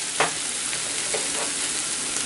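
Mushrooms fry in a pan with a dense, steady sizzle, close and loud, with a couple of brief stirring scrapes and no speech.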